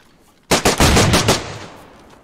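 In the survival game DayZ, a fast burst of about six loud, close gunshots cracks out, then a reverberating tail fades away with no talk.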